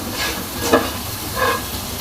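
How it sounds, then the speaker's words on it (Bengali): Spice masala fried in a little oil for chicken maharani is stirred in the pan, giving a soft steady sizzle with a couple of scraping stir strokes, close and moderate in level. "নাড়তে নাড়তে মশলাটা ভালোভাবে ভাজা হয়ে গিয়েছে"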